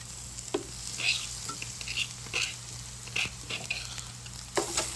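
Crushed ginger and garlic sizzle with translucent onions in a hot pan for an eggplant curry. A steady fry hisses underneath while a utensil stirs and scrapes in several short, irregular strokes.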